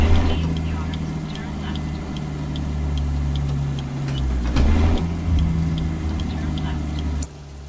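A Caterpillar 3406B diesel truck engine idles with a steady low rumble in American Truck Simulator, a continuous drone that shifts slightly as the truck turns, with the windows down and someone talking over it.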